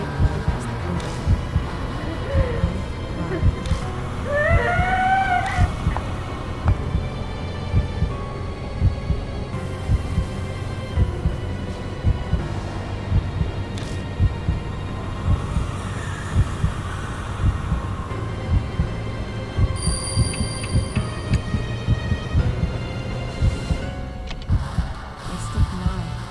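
A song plays from a cassette tape player in a horror video game, a steady low rhythmic throb like a heartbeat with a droning hum and faint melodic tones running continuously throughout.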